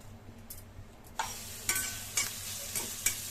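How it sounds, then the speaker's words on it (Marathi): Chopped onion sautés in half a tablespoon of oil for a stuffed brinjal dish, a soft close sizzle broken by regular sharp scraping stirs roughly every half second, no voices. "कांदा चांगला परतून घ्यायचा आहे"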